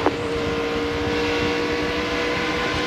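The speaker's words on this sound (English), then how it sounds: "See those RPMs? You can hear it. It goes with the throttle." A NASCAR race car engine at the 2002 Carolina Dodge Dealers 400 roars steadily up close, a dense continuous drone with the pitch riding up and down with the throttle, no voices over it.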